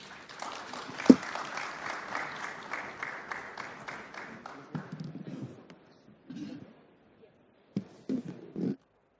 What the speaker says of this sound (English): Ladies and gentlemen, a big round of applause for a stunning line-up of luminaries from the banking industry